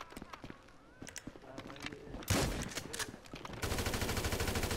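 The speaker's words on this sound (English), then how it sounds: "That's an AK-47, bro." AK-47 gunfire in Grand Theft Auto V, heard as loud broadband bursts that settle into a rapid, steady automatic rattle, with a person talking over it.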